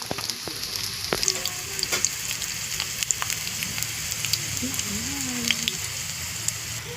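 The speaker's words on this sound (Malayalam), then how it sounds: "നമ്മുടെ എണ്ണയിൽ കിടന്ന് നമ്മുടെ ഏത്തപ്പഴം അങ്ങ് പൊരിക്കുന്നുണ്ട്" Plantain sizzles and crackles steadily as it fries in oil, with scattered small pops over a constant hiss.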